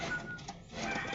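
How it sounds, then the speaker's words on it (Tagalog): Pigeons coo loudly nearby, soft low throaty calls running continuously through the moment with no one speaking. "Ang lakas mamarako ng kalapati dito"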